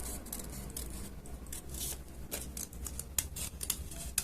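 Scissors snip through paper to cut out circles for a Kermit the Frog puppet, a close series of soft irregular crisp snips and rustles.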